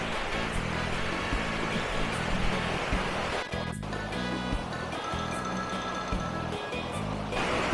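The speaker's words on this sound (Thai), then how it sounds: "น้ำตกอยู่สุดบันไดเลยค่ะมองเห็นเลย" The Pa Wai waterfall pours steadily at the bottom of a stairway, a loud continuous rushing roar of water heard up close with someone speaking quietly over it.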